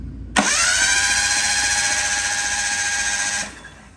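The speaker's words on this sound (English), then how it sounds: "Turbo spinning with no spark plugs." A Mirage 1.8L DOHC turbo engine cranks steadily with its spark plugs removed to prime it, the turbo spinning up in a loud, even whine that holds for about three seconds before cutting off.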